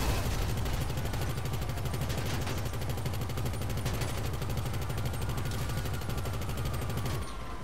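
Gunfire in Grand Theft Auto V with the weaponised Tampa car: rapid, continuous machine-gun-like bursts rattle without pause over a low rumbling bed for several seconds, loud and close.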